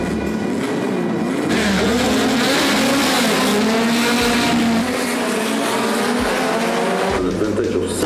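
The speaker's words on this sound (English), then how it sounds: "You can hear the race cars in the background." Historic race cars at the Monaco Historic Grand Prix, engines roaring loudly and continuously as they pass, with a steady droning blare over the whole stretch and people talking underneath.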